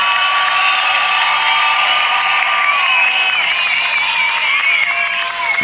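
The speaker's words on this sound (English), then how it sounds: "And make some noise once again." A beatbox battle audience applauds and cheers steadily, with whoops rising over dense clapping, loud and continuous throughout.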